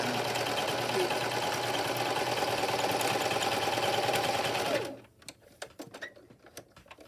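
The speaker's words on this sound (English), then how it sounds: "So I'm going to sew this seam" A sewing machine runs a seam on an 18-inch doll nightgown, its fast, even motor whir continuing for nearly five seconds before stopping abruptly, followed by a few soft handling clicks.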